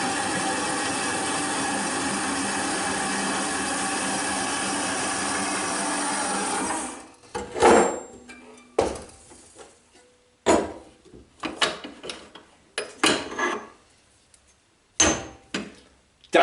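A small machine bores 40 mm holes in metal, a steady loud grinding drone that cuts off abruptly, followed by a series of sharp clanks and knocks of metal parts.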